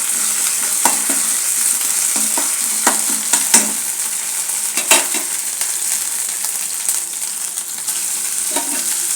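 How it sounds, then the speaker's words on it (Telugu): Green chillies and coriander fry in a pan for egg fried masala rice, giving a steady close sizzle broken by repeated scraping and clinking stirs, with no talking. "ఇది కొంచెం ఫ్రై అవ్వని పచ్చివాసన పోయేందుకు బాగా ఫ్రై చేసుకున్నాము."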